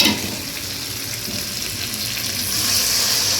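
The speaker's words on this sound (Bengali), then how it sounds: "এবার আমি এর মধ্যে গরম জল দিয়ে দেব।" Hot water pours into a pan of potatoes and spices frying in oil, a steady loud hiss and bubbling sizzle that swells slightly toward the end, close up with no talking.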